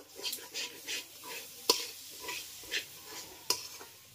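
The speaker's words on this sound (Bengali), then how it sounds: "মশলার সঙ্গে ডালটাকে একবার ভালো করে নেড়েচেড়ে মিশিয়ে নেব।" Fried moong dal is stirred into cooked spice masala for bhog khichuri, with soft rhythmic scrapes over a light sizzle and two sharp clinks of a spoon against the pan.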